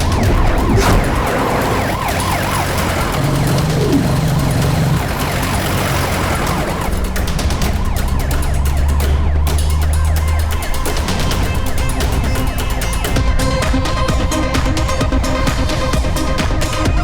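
An ambulance siren wails loudly and continuously, close by and dominating, over the rumble of road traffic in a Malayalam film scene.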